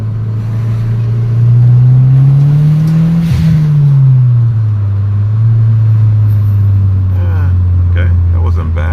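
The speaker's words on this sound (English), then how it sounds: "As soon as I put the boost controller on it, it really changed the way it sounds." Turbocharged Audi S3 8L engine fitted with a boost controller, revving up and down in a long, loud sweep that rises, dips and settles, close by, with faint chatter from onlookers toward the end.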